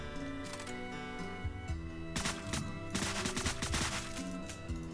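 Rapid gunfire bursts from the video game Deadbolt crackle over a droning electronic music track, several quick volleys clustered in the middle and end, moderately loud and continuous.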